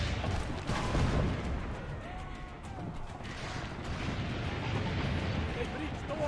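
Booming cannon fire from the Assassin's Creed Brotherhood game, dense rumbling blasts layered over battle noise and game dialogue, fairly steady throughout.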